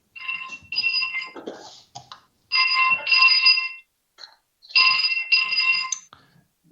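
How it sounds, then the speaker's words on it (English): A cell phone rings loudly and close by in three repeated bursts of electronic trilling tones separated by short silences. "That would have been a cell phone, not a timer."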